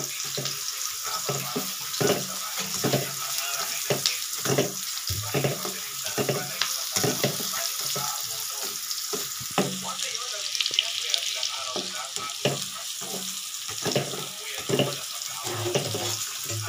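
Onions sauté in a pan for a mung bean and bitter melon stew, a steady close sizzle and hiss with frequent clicking taps from stirring running throughout.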